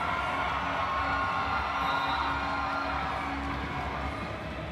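A roller derby crowd cheers for a team in an arena, a continuous loud wash of shouting and whooping voices that holds steady and eases slightly at the end.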